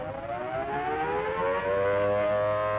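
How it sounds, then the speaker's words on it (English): A wailing civil-defense air raid siren from a 1942 film, rising steadily in pitch as it winds up, loud and sustained with no talk. "That's the signal for an air raid alert. We must stand by for the sirens."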